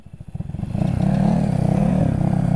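A motorcycle engine revs up from a stutter into a steady, loud drone, rising quickly in the first second and holding close by.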